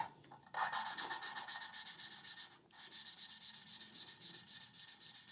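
Mini Cooper engine valves are lapped by hand with grinding paste in a cylinder head, giving a close, rhythmic gritty rasping that repeats back and forth, with a brief pause before the strokes resume.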